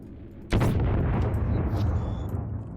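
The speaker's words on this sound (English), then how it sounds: "I heard those torpedoes go off." Torpedoes detonate in the space-naval battle game Treasure Planet: Battle at Procyon, a sudden loud blast followed by a long rumbling roar that slowly fades, with faint higher effects and tones ringing through the tail.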